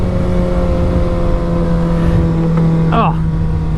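A 2016 Suzuki Hayabusa 1340cc motorcycle engine drones loudly and steadily from the rider's position, its pitch climbing slightly near the end with a brief sharp rising whine.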